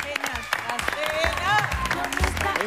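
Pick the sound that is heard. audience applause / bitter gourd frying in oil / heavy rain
audience applause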